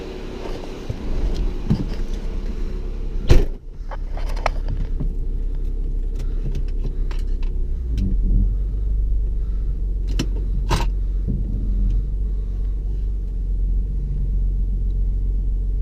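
A car idling after an oil change, a steady low engine rumble running throughout with a few sharp clicks and knocks near the start and in the middle.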